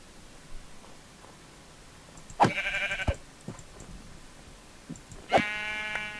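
Sheep bleat twice, each a loud, wavering cry separated by about three seconds, over a quiet background with faint rustling and a few soft knocks.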